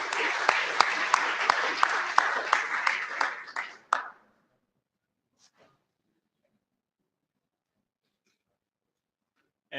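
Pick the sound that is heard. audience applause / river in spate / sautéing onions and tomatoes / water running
audience applause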